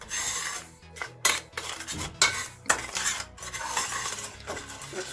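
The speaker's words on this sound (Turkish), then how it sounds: "İyice şekerle unumuzu, nişastayı önce bir harmanlıyoruz ki topaklanma olmasın." Sugar, flour and starch being stirred together in a metal pot with a spoon, brisk scraping and clinking strokes in quick bursts with short pauses between.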